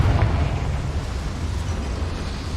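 A Confringo fire spell goes off in Hogwarts Legacy, a loud deep blast with a sharp pop at the start that leaves a rumbling roar slowly fading over a couple of seconds.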